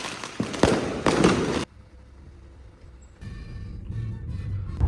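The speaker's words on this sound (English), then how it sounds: "it's time for the main event, fireworks" Chinese New Year fireworks show in the suburbs, heard as loud booming bursts in the first second and a half, then a quieter stretch and a fresh rumble of distant explosions toward the end.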